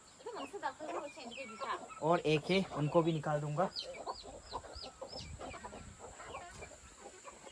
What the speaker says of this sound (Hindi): मुर्गी बच्चे